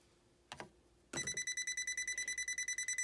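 Two clicks, then a voltage tester detecting a live electrical outlet emits a rapid, steady series of shrill electronic beeps pulsing close by without pause until the end.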